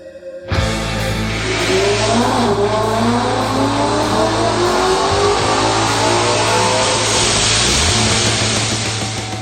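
A 2011 Ford Mustang 5.0 with a Paxton supercharger roars on a dyno at a high-altitude car show, a loud sustained engine pull with rising whine that holds steady for several seconds before easing slightly.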